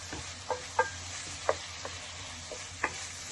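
Chicken with garam masala fries in a pan, a soft, low sizzle under several distinct ticks and clinks as the spoon stirs and taps the pan, spaced irregularly.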